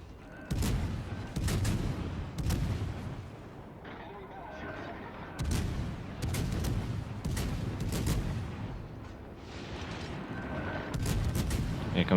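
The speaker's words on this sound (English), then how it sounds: "Here comes another volley from the KG-5" Battleship main-gun volleys from a KG-5 in the naval game World of Warships Legends, heavy booming blasts recurring in clusters through the clip amid continuous battle noise.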